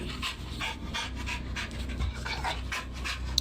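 A Staffordshire terrier pants excitedly, close by, in a quick, steady rhythm of breathy puffs that continues throughout.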